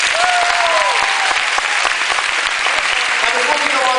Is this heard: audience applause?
yes